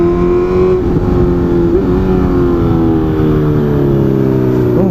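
A four-cylinder Honda CB 650F motorcycle engine revs steadily and loudly through a turn, its pitch climbing and dipping as it accelerates and shifts gears, with no voices over it.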